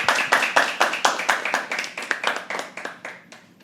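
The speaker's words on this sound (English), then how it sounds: "Can we please have another round of applause?" An audience clapping at a live poetry open mic, a rhythmic round of hand claps in a steady beat, close and lively, gradually tapering off toward the end.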